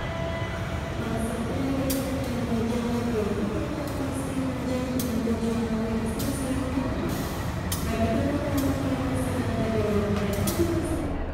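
Inside the KA Sritanjung passenger train, a constant rumble of wheels on rail carries on with faint squeals and clicks, while voices murmur over the noise.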